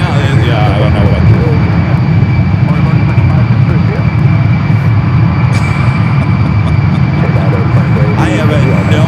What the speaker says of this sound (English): I have no idea where that engine noise is coming from